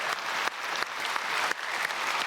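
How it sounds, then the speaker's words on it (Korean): A large church congregation applauds at a special dawn service, a full, sustained wash of many hands clapping steadily for the whole stretch, with no voices above it. "오늘 이렇게 귀한 발걸음 해주신 모든 분들께 박수로 함께 축복하도록 하겠습니다."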